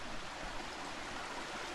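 Steady broadband rush of creek water flowing along a hiking trail, close and continuous with no voices over it.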